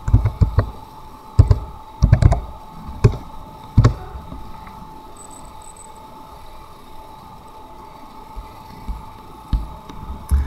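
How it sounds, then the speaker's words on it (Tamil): Typing on a computer keyboard during a Google Images search: a few sharp key clicks in quick bursts in the first four seconds, then a quieter stretch with a faint hum, and a couple more taps near the end. "நான் கம்ப்யூட்டர்னு டைப் பண்ணுறேன்."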